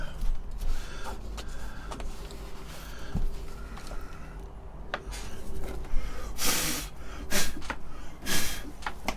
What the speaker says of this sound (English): I'm using breath to blow it out